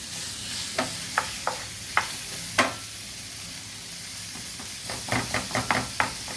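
Sausage sizzles steadily in a solid pan while a utensil knocks and scrapes through it in distinct strokes, a sparse few at first then a quicker burst near the end; close, no talking.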